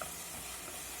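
Vegetables frying in a pan with soya sauce, giving a steady, close sizzle with stirring noises throughout, with no voices.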